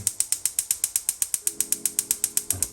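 A gas stove burner igniter clicks as it is turned on, giving a steady, rapid run of sharp, close clicks at about six per second with no voices.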